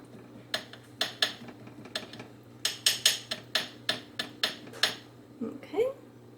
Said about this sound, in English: Yes, I'm using a whisk.